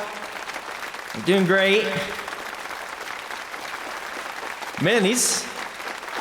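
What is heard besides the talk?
applause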